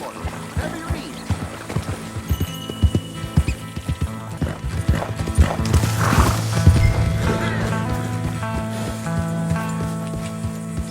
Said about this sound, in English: Mr. Mason, I'm borrowing your horse.